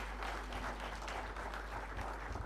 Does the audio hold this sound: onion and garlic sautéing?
no